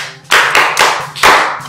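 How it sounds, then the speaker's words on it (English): Students in a classroom clapping for a classmate: a few strong, close bursts of many hands, each starting sharply and tapering off, repeated about four times. "Clap properly for her."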